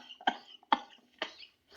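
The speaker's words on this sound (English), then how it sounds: "You made me cough when I laughed." Three short, close coughs from one person, spaced roughly half a second apart, each a sharp burst that quickly dies away in a quiet room.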